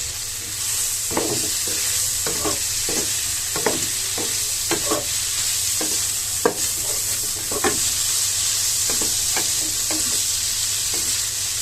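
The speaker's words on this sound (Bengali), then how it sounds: "মাংস শুটকিটাতে গ্রেভি আসার জন্য পেঁয়াজ দিয়ে দিলাম।" Onions fry in a pan of beef shutki, a dense steady sizzle with a spoon clacking against the pan every second or so as the mixture is stirred, fairly close and loud with no talking.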